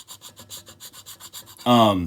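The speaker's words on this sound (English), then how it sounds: "shavings off this ferro rod, and when you scrape those off, they react with the air and they spark up" A knife scraping shavings off a ferro rod fire starter, heard as a steady series of short rasping strokes, roughly a dozen in quick rhythm, close and moderately loud, ending in a louder burst at the end.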